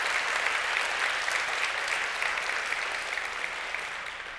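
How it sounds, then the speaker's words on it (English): Audience applause fills a developer conference keynote hall, a steady, dense wash of clapping that stays loud and even throughout with no talking over it. "could we please give a round of applause to our heroes, our developer council, and our community organizers"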